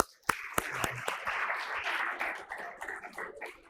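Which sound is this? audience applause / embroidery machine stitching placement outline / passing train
audience applause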